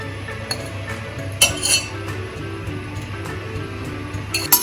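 A pan set onto a gas stove for a farali potato dish, with scattered metallic clinks of cookware and utensils over a steady low burner hum, fairly close and moderate in level.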